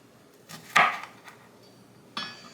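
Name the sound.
cutting the tops off peppers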